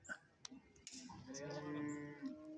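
Young bulls and buffalo calves at a livestock market give a single drawn-out, fairly close moo in the second half, over faint background clatter and noise.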